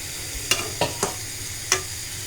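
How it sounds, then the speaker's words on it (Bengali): Ash gourd being stir-fried with spices in a pan, a faint steady sizzle under four sharp scraping stir strokes spaced unevenly, close and alone. "মশলাও কষবে আর আমার জালি কুমড়াটাও কষানো হয়ে যাবে"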